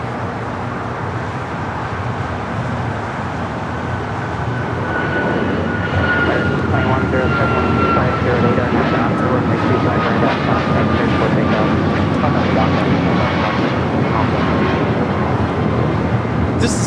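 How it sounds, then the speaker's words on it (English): An Alaska Airlines Boeing 737 MAX 9 takes off, its jet engine roar building into a broad, loud, steady rumble that swells partway through, with chatter faintly beneath. "This is Alaska Airlines 1334 taking off to Belize City on the MAX 9."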